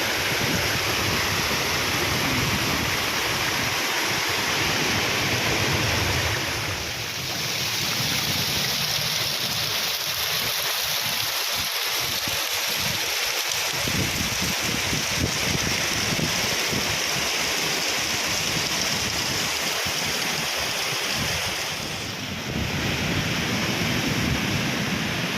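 A waterfall at Sabang, Palawan pours in a constant, full roar of rushing water, close and loud, with brief dips in intensity and no speech.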